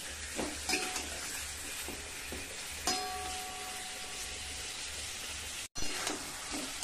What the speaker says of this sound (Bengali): দেখুন এবার আমি এই তেলের মধ্যে চিকেনটাকে ভালোভাবে ভেজে নেব।